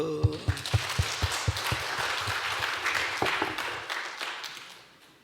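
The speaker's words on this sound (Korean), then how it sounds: "박수" Audience applause during a church service, with a few loud distinct claps up front that swell into a sustained round of clapping and then fade out toward the end.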